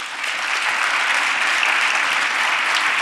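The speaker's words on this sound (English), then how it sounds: "Give a round of applause to them as well." Sustained, full applause from a large audience at a campaign launch event, dense and even clapping that holds loud and steady without a break.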